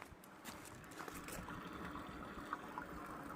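Water runs from a hose into the fresh-water tank of a Swift Voyager 505 caravan, a soft steady trickling and filling sound at low level.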